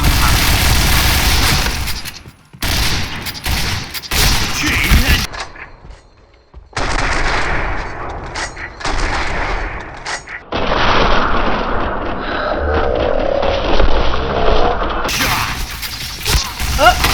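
Gunfire in the Point Blank online shooter game, loud rapid bursts and single shots repeating across the span with brief pauses, and a voice talking at times over the shooting.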